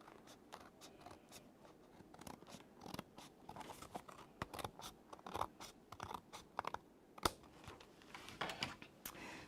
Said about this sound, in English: I'm just going to trim away this white edge that we've got here